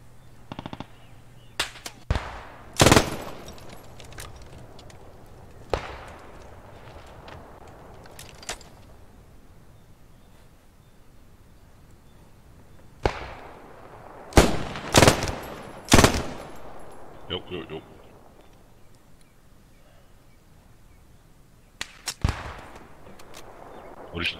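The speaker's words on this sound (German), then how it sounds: "Oh, die Straße runter schießt einer." Gunfire rings out down a street in the WWII shooter Post Scriptum, scattered single shots and short bursts cracking at irregular intervals, some sharp and close, others duller and farther off.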